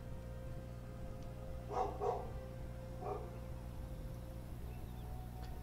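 A few dogs bark in the distance over a steady low hum, with two quick barks close together, then a single bark a second later, all faint.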